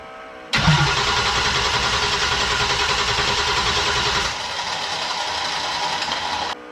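A cheap Corvette fitted with a turbocharged diesel engine with its fuel screw turned to maximum cranks over and fires, then runs with a loud, dense, rattling roar that eases slightly partway through before cutting off abruptly.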